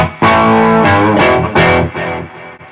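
Electric guitar played through an Analog Alien Bucket Seat Overdrive pedal with the gain turned all the way down, ringing out several strummed chords in a loud, close sequence with no talking.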